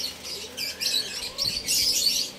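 Pet African lovebirds in a breeding setup chirp in quick, shrill bursts, several overlapping calls close by with short gaps between them.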